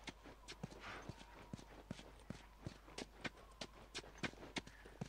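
Horse hooves clip-clop steadily in The Last of Us, a run of sharp, evenly spaced hoof strikes at a trotting pace, moderately close over a faint background hum.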